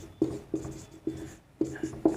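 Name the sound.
writing on a board during lesson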